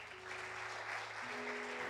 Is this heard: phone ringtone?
no